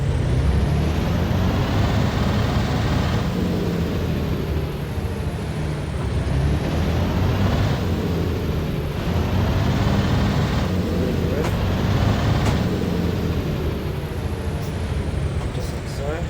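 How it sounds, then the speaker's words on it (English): Regiobus I200 bus engine idles in the video game OMSI 2, a steady low rumble with a faint whine that goes on throughout while someone talks over it. "Leave it idling for a bit."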